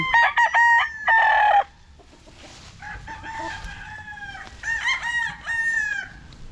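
Young gamecock stags, farm-bred and raised, crow in several loud, close calls. Soft clucking and yard noise fill the gaps between the crows, and there is no talking.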